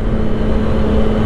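A CF Moto 675 SR-R motorcycle, a 90-horsepower, 195 kg bike, pulls hard in gear without a downshift. Its engine gives a loud, steady, close droning note for a brief moment.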